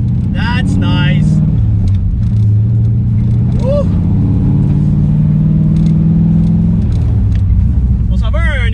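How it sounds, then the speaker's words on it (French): Engine of a V8 Mazda Miata drift car with around 400 horsepower and no hood, a loud continuous rumbling drone under someone talking throughout. "Je suis présentement dans un Miata V8."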